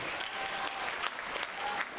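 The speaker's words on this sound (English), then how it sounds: "So a round of applause for everybody who helped make this possible." Steady audience clapping rises at a poetry recitation competition event as helpers are thanked, a dense even patter of hands with a few sharper claps.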